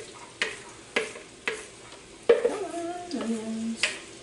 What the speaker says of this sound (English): we're just going to add in the onion right into that butter